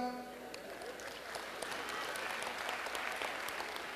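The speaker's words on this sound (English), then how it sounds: "Give my Guyanese friends a clap." An audience at a comedy show claps for Guyanese friends in the crowd, a brief burst of applause that swells after the first second and holds steady, dense and close, with no talk over it.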